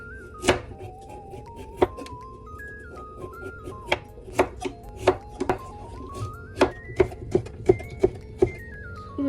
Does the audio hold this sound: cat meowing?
no